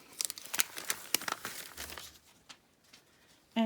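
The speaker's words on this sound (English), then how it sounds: "So we're gonna peel off the paper backing." Paper backing being peeled off fusible appliqué fabric for a maple leaf quilt block, heard as a run of close, dry crinkling and tearing rustles that thin out toward the end.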